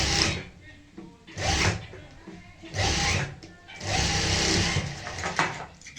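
Sewing machine stitching the pleats of palazzo pants, running in several short bursts of buzzing motor noise with quiet gaps between them, heard up close.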